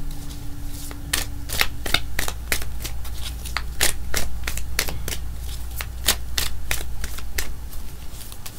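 Tarot cards being shuffled by hand, a steady run of crisp riffling snaps and slaps close up over a low background hum, with no talking.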